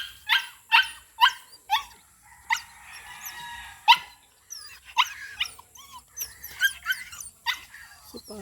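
A pet dog barks in short, sharp repeated bursts near an outdoor hut by a rubbish area, followed by a run of quicker yips and whimpering barks.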